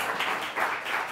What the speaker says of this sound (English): Round of applause for Liz, please.